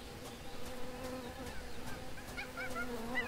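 Bees buzzing in the Tales of Monkey Island game, a faint wavering insect drone with intermittent higher honking tones, quiet and without talk.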